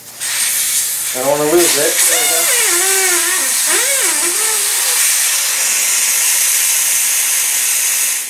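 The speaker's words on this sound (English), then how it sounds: "Now that the air is out," Air hisses out of a car tire valve stem with its core removed, a loud, steady, broadband rush close by, with someone talking briefly over it near the start.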